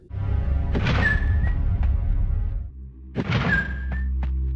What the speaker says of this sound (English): And opening certain doors is the same sound in Vampire Bloodlines.